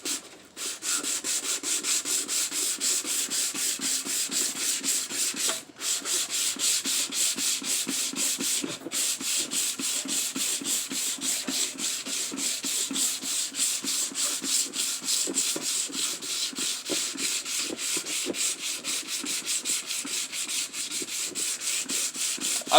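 A Mk4 Golf headlight lens is dry-sanded by hand with a pad: a steady, close, continuous scratchy rubbing in quick back-and-forth strokes, with a couple of brief pauses and no talking.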